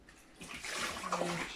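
Water pours steadily into a canner holding about 10 litres, filled while preparing a batch of elderflower champagne; a close, continuous rushing splash that grows slightly louder as it fills.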